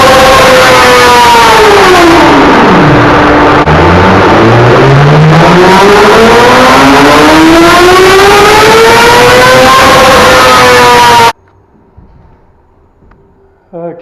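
A 2008 Yamaha R6 race bike engine revs on a dyno, dipping low then climbing in a long, loud, continuous scream through the rev range before cutting off abruptly into near silence.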